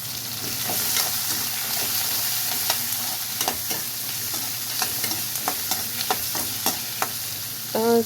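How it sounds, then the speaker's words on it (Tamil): Finely chopped large onions sauté in a pan in a village kitchen, a steady gentle sizzle punctuated by repeated clicks and scrapes of a stirring spoon, close by and without speech. "பெரிய வெங்காயம் நல்லா பொடியாக கட் பண்ணியிருக்கேன் இப்போது இது நல்லா வதக்கிக்கலாம்"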